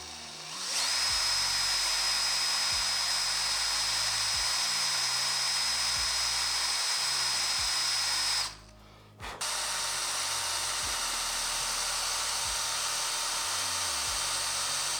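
A power drill whines steadily while boring pilot holes for a snorkel install on a second-generation Toyota Sequoia, with a brief stop midway and faint clicks and knocks underneath.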